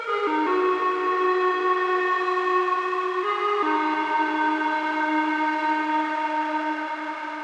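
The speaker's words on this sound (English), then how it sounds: "this kind of grisly effect on the second one is done using Valhalla Space Modulator" A creepy, processed synth sound treated with the Valhalla Space Modulator plugin swells as a sustained, eerie tonal drone whose layered pitches shift downward partway through, steady and loud with no talking.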